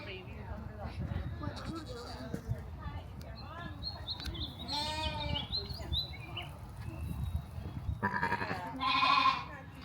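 Goats bleat repeatedly at a farm open house with baby goats and sheep, several short calls rising over close chatter from visitors talking throughout.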